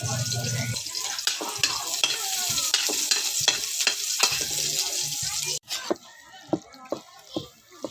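Adobo sizzles and is stirred in a pan, with a steady frying hiss and repeated scraping taps from a utensil. The sound then drops away to quieter, scattered clinks.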